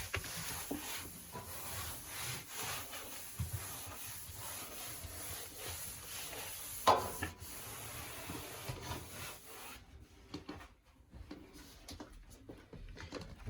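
Tissue wiping and drying a household heating radiator: quiet, close, dry rubbing strokes in an uneven rhythm that fade out near the end.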